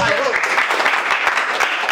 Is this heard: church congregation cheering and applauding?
yes